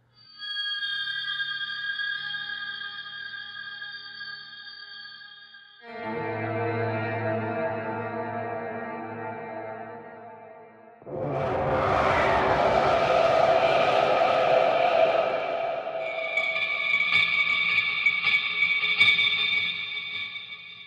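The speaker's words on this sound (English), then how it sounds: "bowing and scraping and just playing around on the guitar, making some unusual atonal, really meant to be obscure and just a lot of the times uncomfortable feeling" An electric guitar is bowed and scraped in atonal, uncomfortable textures: sustained droning tones shift into a harsh scraping wash, then a bright metallic ringing, drenched in effects and echo.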